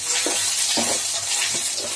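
Ginger sizzles and fries in hot oil in a pan, with a few stirring scrapes at a steady rhythm, close and fairly loud over a continuous hiss.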